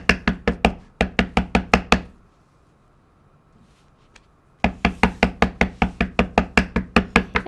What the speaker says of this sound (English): I'm going to begin by stamping the solid leaf image randomly across the top of the card